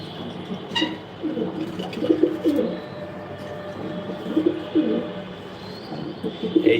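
Racing pigeons coo repeatedly in a loft, soft throaty rolls recurring every second or so over a steady background hum, with faint chirps mixed in.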